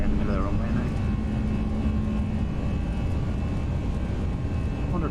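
A steady, loud roar of airliner jet engines at takeoff thrust on the runway in a flight simulator, a constant rushing drone with a faint tonal whine and no break across the stretch.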